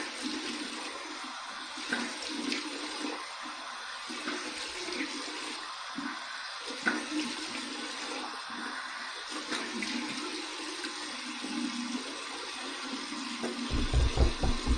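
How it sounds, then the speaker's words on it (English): Cold water runs from a tap for a rinse during a wet shave, a steady hissing splash close by that stays even throughout, with a louder swell right at the end. "Here's my cold water rinse."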